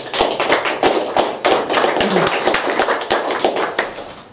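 Scattered audience applause at a training seminar: a thin, uneven run of individual hand claps, fairly close, with no speech over it.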